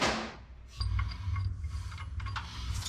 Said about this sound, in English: gotta tighten the bolt on that bracket down low